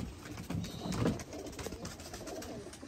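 A pigeon coos in soft, low murmuring calls, swelling briefly in the middle of a short stretch of loft ambience.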